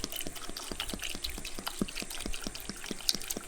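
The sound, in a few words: water being poured in to make ginger tea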